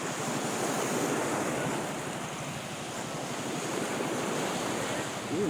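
Sea waves and wind at the shore in Marinduque, a continuous broad roar of surf mixed with gusting wind buffeting the microphone, loud and unbroken throughout, with no clear voices.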